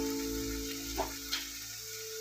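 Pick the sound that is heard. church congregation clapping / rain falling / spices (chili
spices (chili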